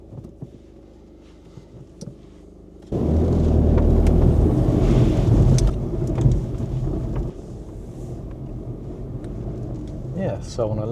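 A 2015 VW Golf GTD Mk7 with a 2.0-litre TDI diesel starts up and drives off along country lanes on a dry evening, a loud steady engine drone and road rumble following a quiet idle, with someone talking.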